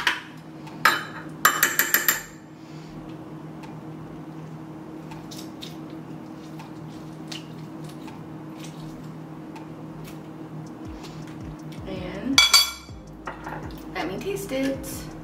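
A drink is stirred in a container, with quick bursts of clinking and tapping near the start and again near the end over a quiet background.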